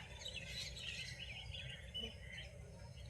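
Pet birds kept by a bird lover in Shembal Pimpri, faint chirps and squawky calls scattered over a low background hum, distant and quiet.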